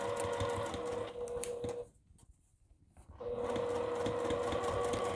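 A sewing machine stitches straight across a strap with a half-inch seam allowance, a steady close-up whirr of rapid needle strokes. It pauses for about a second midway, then carries on.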